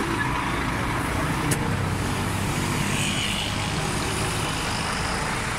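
A goods vehicle carrying livestock from a goat market in Dera Ghazi Khan, Pakistan, bound for Karachi, producing a loud, constant engine and road rumble with no breaks.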